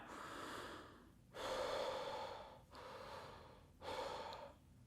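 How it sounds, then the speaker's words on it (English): Slow, deliberate breaths drawn in and pushed out during a singing breathing exercise, close and alone, with two long inhales alternating with two exhales as airy rushes over about five seconds. "You put a thumb or two fingers right underneath your rib cage, right here, and you breathe in and out"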